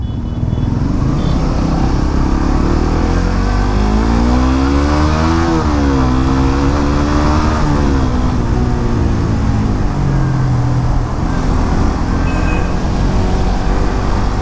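A Suzuki GSX 150 Bandit motorcycle engine revs steadily and loudly, its tone climbing and falling in smooth sweeps over a constant running drone with wind noise throughout.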